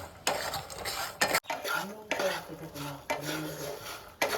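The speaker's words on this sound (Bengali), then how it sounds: "বালিতে বাদাম ভাজা হয়, আমি কিন্তু এটা নুন দিয়ে ভাজবো" Peanuts dry-roasting in salt in a pan are stirred with a utensil, giving a steady close rattle and scrape of grains and nuts against the metal in repeated strokes, with a short pause midway.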